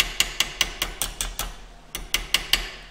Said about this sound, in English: this is essentially planishing, which is removing smaller dents and imperfections.